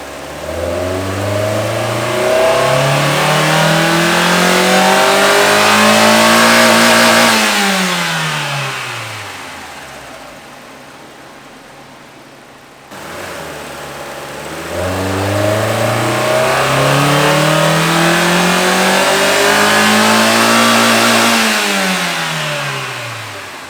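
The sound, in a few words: Mazda Miata NB2 engine revving during a dyno run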